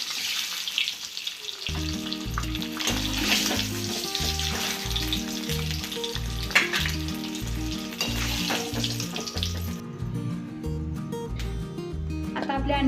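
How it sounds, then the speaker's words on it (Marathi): Eggs frying in oil in a pan for an egg curry, a loud continuous close sizzle with stirring scrapes, and a voice talking over it. "आता आपण त्याच्यात अंडी टाकून थोडंसं फ्राय करून घेऊया।"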